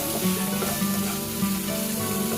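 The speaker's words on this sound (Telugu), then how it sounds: "పసుపు వేసిన తర్వాత కలపాలి. బాగా కలపాలి." Dal with turmeric being stirred in a sizzling pan, a continuous close frying hiss with soft stirring scrapes running steadily for a couple of seconds, no voices.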